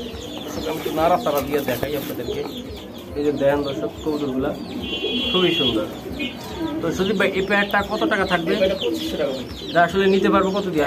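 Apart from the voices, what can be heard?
pigeons at a pigeon farm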